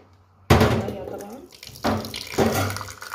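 Kitchen tap water gushes into a bowl to soak spleen in salt and lemon, starting abruptly and splashing in three strong surges, close and loud.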